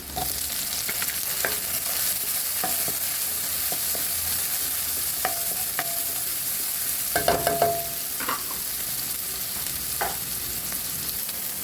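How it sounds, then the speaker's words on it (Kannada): Onions frying in a pan, a constant close hiss of sizzling oil with occasional sharp taps and scrapes from stirring, no voices. "ಇನ್ನು ಸ್ವಲ್ಪ ಈರುಳ್ಳಿ ಫ್ರೈ ಆಗಲಿ ಈರುಳ್ಳಿ ಸ್ವಲ್ಪ ಕೆಂಪಾಗಿದೆ"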